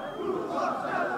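A protest crowd of demonstrators in Pristina roars in a dense, continuous wall of shouting voices, loud and sustained throughout.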